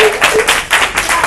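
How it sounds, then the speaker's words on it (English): A round of applause for workshop participants at a design thinking hackathon workshop: a short burst of several hands clapping, fairly close and loud, in bunched uneven pulses over about a second. "So, we give a round of applause to everybody."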